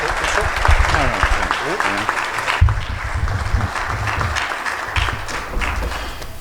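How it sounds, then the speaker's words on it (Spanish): An audience at a book presentation claps loudly to welcome a guest speaker, with thuds and voices mixed into the applause before it thins out. "Salvador, lo vamos a recibir con un fuerte aplauso."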